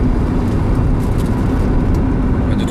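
A Honda Civic with a newly fitted S40 gearbox drives along, its engine and road noise forming a steady, loud drone with no clear breaks.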